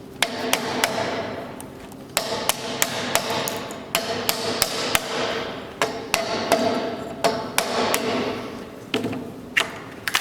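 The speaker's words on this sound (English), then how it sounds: "We're gonna have to start chiseling off some of this excess material." A hammer striking a chisel to cut excess wood from a timber rafter, sharp repeated blows at an uneven working rhythm, close and loud throughout.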